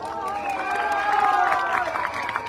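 Audience at a graveyard inauguration ceremony in a village settlement breaks into steady applause and cheering, a fairly loud crowd sound that holds for a couple of seconds.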